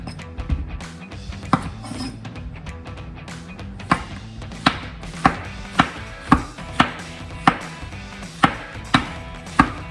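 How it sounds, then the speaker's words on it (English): A knife chops a zucchini on a cutting board in a home kitchen, starting as irregular knocks and settling into a steady rhythm of crisp, close taps over faint background noise. "we have a zucchini, right? So I'm just gonna chop this up."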